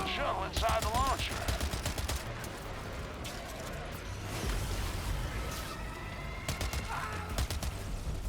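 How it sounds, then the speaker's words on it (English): Rapid machine-gun fire in the co-op shooter FBC Firebreak, sustained bursts running nearly the whole time over a dense game mix with a short tonal effect and voices underneath. "the machine gun sure does have a big magazine"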